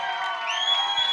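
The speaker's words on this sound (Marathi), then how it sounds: "जोरदार टाळ्या त्यांच्यासाठी झाल्या पाहिजेत" A crowd at a Marathi film launch event cheers and claps, producing a dense, steady wash of applause and whoops that fills the whole moment at close range.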